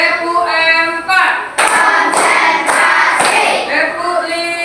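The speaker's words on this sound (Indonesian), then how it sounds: "tepuk tangan untuk kelompok 4 dulu" Fifth-grade primary schoolchildren in a classroom clap together in a rhythmic pattern, several loud, close clusters of claps in steady succession, woven between and under the group's loud sung chanting.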